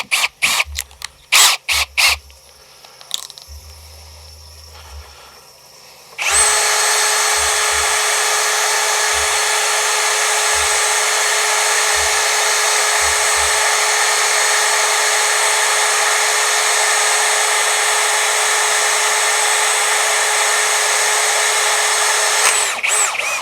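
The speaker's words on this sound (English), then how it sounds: "a lot of what happens in drilling and drilling with steel is the cleanliness, the sharpness, the angle of your drill bit" An AEG BSB18BL cordless drill bores into steel in one long, loud, steady whine that runs unbroken for most of the stretch, after a few short knocks and handling sounds at the start.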